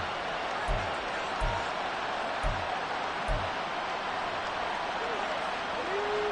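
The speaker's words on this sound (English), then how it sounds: "this crowd trying to force a false start here" Football stadium crowd roaring steadily through the closing seconds of a Packers–Lions game, a dense, loud wall of noise from the fans, with a few low thumps at the start.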